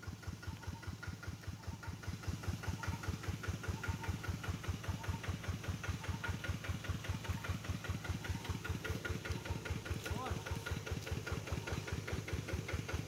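A motorcycle engine idles steadily in a forest, its rapid regular chugging close and even for the whole stretch, a little louder after the first couple of seconds, with no voices.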